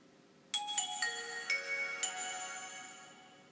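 A Nokia 6500 Slide mobile phone plays its startup sound: a short bright chime melody of several layered ringing tones entering one after another, then fading out, heard close and clear with no voices.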